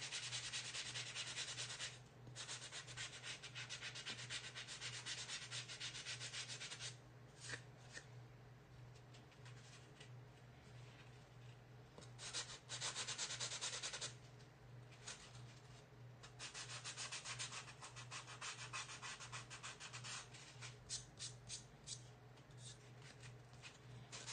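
A sanding block rubs paint off a wooden fall sign insert in dry, scratchy strokes that come in long runs with short pauses, over a steady low hum and without any talk.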